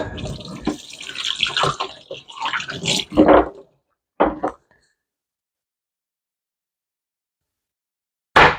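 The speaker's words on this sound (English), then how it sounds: "what we're going to do is wash my hands" Hands washed under a running kitchen tap while preparing pumpkin jam: water gushes in uneven bursts for about three seconds, stops, then returns in two brief close splashes, the last one after a long silence.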